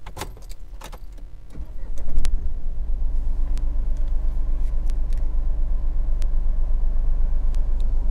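A 2021 Mahindra Bolero Neo N10 is switched on with a flip key: keys jangle and click at first, then the engine catches and settles into a steady, close, rumbling idle that runs on alone.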